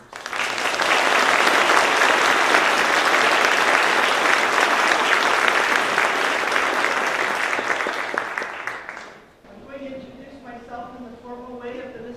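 An audience applauds steadily for several seconds to welcome a speaker named Dorothy at an evening lecture, the clapping fading out before a voice begins talking.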